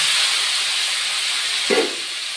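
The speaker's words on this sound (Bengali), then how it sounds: "তা আলু আর বটবটি আমি ধুয়ে ভেজে এই বয়েল করে নিয়েছি, এখন দিয়ে দিচ্ছি।" Boiled potatoes and vegetable hit a hot pan and set off a loud, broad hiss of sizzling, close, which carries on steadily and eases slightly near the end, with no talk.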